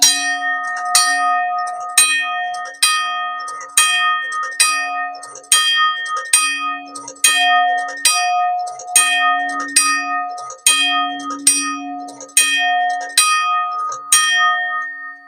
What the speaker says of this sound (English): Press it, and it will act like so.